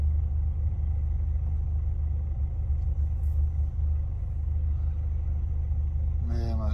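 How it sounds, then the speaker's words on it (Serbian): Cars and a van pass along a nearby road where police are diverting traffic, heard as a steady low rumble of engines and tyres that holds through the whole stretch, with a brief voice at the very end. "Evo kombi, eto još auto, dozgo prolazi"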